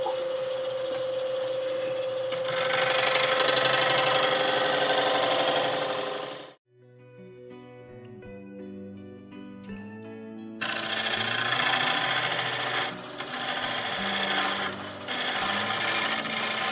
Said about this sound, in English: I'm going to use my negative rake scraper on this.